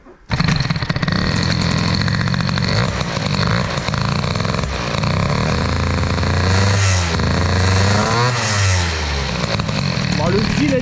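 A Peugeot 103 moped with a Phbg 15 carburettor, running on choke, revs loudly and steadily throughout, rising and falling in pitch with throttle blips, while someone talks over it.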